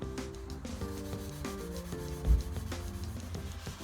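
Hand sanding of primer on the rear end of a car body, a steady scratchy rubbing with irregular strokes that sits under a dense layer of other background sound.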